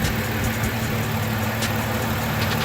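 A Hellcat V8 idles roughly with a misfire, its steady low rumble carrying faint irregular stumbles, close and loud throughout with no voices.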